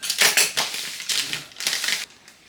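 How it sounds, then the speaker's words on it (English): A knife cuts food into sticks about three-quarters of an inch wide on a cutting board for homemade pizza, giving a run of close, crisp chopping taps with short pauses between them. "We're going to go ahead and cut this into sticks."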